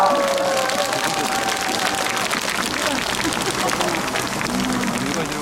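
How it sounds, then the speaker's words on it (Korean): Sustained applause from a concert crowd, dense and loud throughout, with a few voices calling out over the clapping. "네, 여러분 박수 한 번 부탁드리겠습니다."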